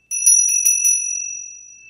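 A small brass meditation bell topped with a Ganesh figure is struck several times in quick succession, its bright metallic ring layering into a clear, sustained shimmer that slowly fades in a quiet room.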